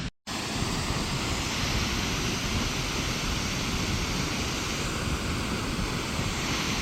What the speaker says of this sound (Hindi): सामने पे जो है भाई ऋषि गंगा का झरना है